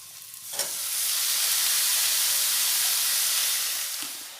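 Chopped potato and cauliflower hit hot oil with frying onion, ginger and garlic, setting off a loud, steady sizzle that swells after a brief clatter and holds strong before easing slightly, with no talk.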